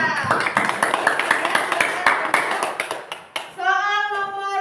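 A classroom of students claps for a classmate who answered a question in a lesson, a dense burst of hand claps over about three seconds that fades, followed by a sustained tonal ping or chime.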